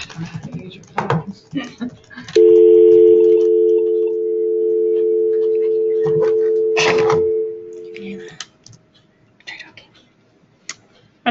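A steady telephone dial tone sounds for about six seconds during a call-in attempt, loud and continuous, with keyboard tapping and clicks before and after it.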